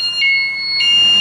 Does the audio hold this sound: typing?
no